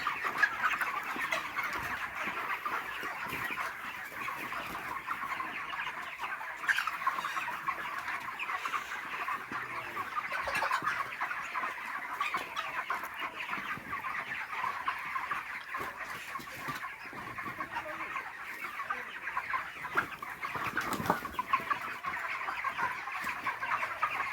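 Broiler chickens on their 35th day clucking together inside a poultry farm shed, a steady dense flock murmur with scattered louder clucks throughout, close and continuous, no voices.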